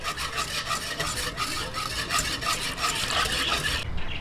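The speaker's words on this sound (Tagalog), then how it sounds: "Ayan, tunawin lang po natin yung gulaman." Steady, continuous rubbing and scraping from stirring gulaman (gelatin) into 2 cups of water in a pot, close and unbroken for a few seconds before ending abruptly.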